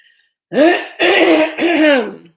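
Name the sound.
throat clearing and cough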